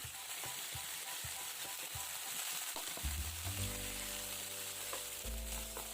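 Potato and carrot pieces fry in oil for chicken caldereta, a close, steady sizzle with a few soft knocks early on, then a deeper, louder bubbling hiss takes over from the midpoint.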